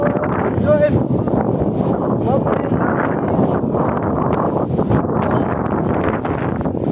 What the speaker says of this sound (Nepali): मजाको हावा आइरहेको छ